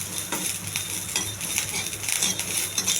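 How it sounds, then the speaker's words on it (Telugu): Curry leaves, chana dal and dried red chillies fry in hot oil for a chutney tempering, giving a steady close sizzle with light stirring scrapes throughout and no talk. "కొంచెం కరివేపాకు, కొద్దిగా శనగపప్పు, కొన్ని ఎండుమిర్చి. ఇవన్నీ కొంచెం దూరగా ఎగించాలి"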